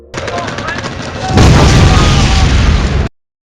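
A loud explosion in a film erupts into a sustained rumbling roar, heavy and close, following a stretch of tense background noise, then cuts off abruptly.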